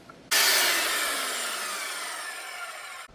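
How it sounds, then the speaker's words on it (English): A handsaw cuts through a piece of wood in one long, continuous rasping stroke, close and loud, starting abruptly and fading slightly before stopping, with no talking. "You cut with your handsaw."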